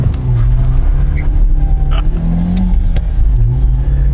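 A BMW E46 Touring's engine rumbles and revs close up as the car pulls away, with a dog panting and whimpering over the drone.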